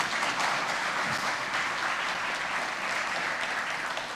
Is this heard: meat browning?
no